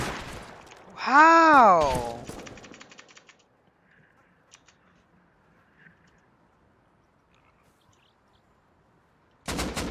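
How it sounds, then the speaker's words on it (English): Gunfire in the survival game Rust: a man's short exclamation, then a quick scatter of sharp shots, a quiet stretch with faint distant pops, and a loud burst of fire at the very end. "shooting."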